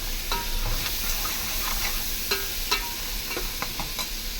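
Onion and garlic sizzle in a pan, a continuous hiss of frying with intermittent sharp taps and scrapes of a stirring utensil against the metal, close and fairly quiet with no talking.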